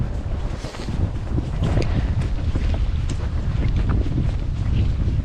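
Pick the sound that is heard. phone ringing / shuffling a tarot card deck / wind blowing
wind blowing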